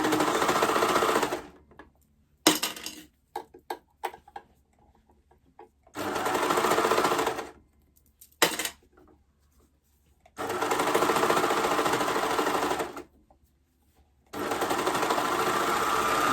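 A sewing machine stitches a Rockford Raglan knit top in several bursts of fast whirring, each a few seconds long, separated by quiet gaps with handling clicks, close and clear with no talk.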